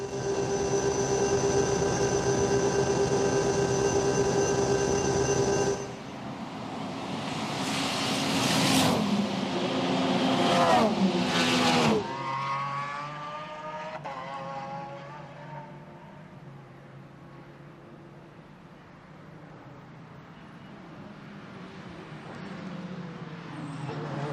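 Onboard the Schubert BMW race car at the 24 Hours of Nürburgring Nordschleife, the engine drones loudly with rising and falling pitch through gear changes, then fades into a quieter, shifting whine.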